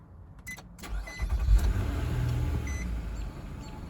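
An Infiniti QX70 engine cranks briefly, catches with a loud rising surge, then settles into a steady, smooth idle, heard close up with no talking.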